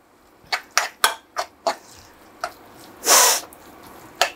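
Omelette masala is mixed in a bowl with a series of sharp clinks and taps of a utensil against the bowl, in a quick irregular rhythm, plus one brief, louder scraping burst.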